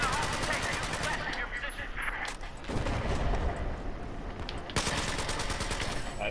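Rapid automatic gunfire and scattered shots from the video game Battlefield 4, dense and continuous bursts filling the clip with brief gaps, loud and close.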